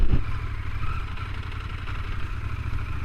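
CFMOTO 1000MT-X adventure motorcycle pulling away toward an off-road trail, its engine a steady, loud low rumble with a sharp knock at the start, continuing alone without talk.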